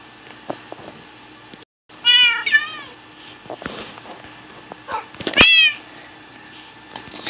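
A video game cat meows twice, loud and close, with a long drawn-out cry followed by a shorter one, among light clicks and small background noises.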